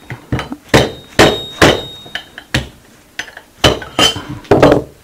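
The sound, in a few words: hammering a piece out of a prototype structure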